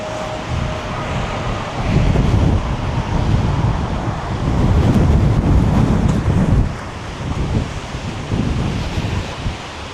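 Storm Amy's wind buffets through Glasgow city centre streets, loud gusty roaring that swells and drops in surges against the microphone.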